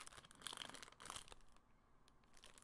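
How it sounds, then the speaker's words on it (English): Crinkly plastic packaging around frosted donuts rustles and crackles in short, faint bursts close by, with no voices. "Back to the crinkly packaging."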